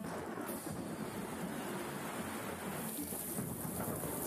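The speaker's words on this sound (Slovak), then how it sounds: "Pozri na ten dážď, Julien." A storm pours steady heavy rain with a low rumble of thunder running beneath it, a continuous, enveloping wash of sound with no voices.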